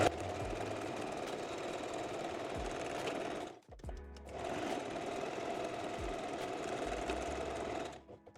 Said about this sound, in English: Then overlap and stitch the elastic edges.